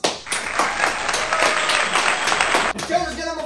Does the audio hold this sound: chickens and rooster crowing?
no